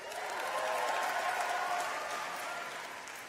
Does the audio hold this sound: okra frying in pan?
no